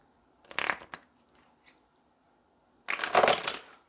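A deck of tarot cards is shuffled in two quick riffling bursts separated by a pause, crisp and close with soft papery flutter in between.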